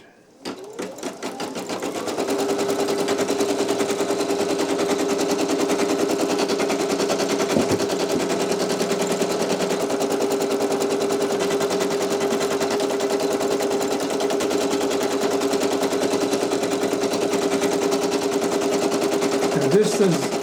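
A Brother PE800 embroidery machine stitches a design onto a towel, giving a steady, fast, rattling needle drive that starts up in the first couple of seconds and then runs evenly and loudly for the rest of the clip.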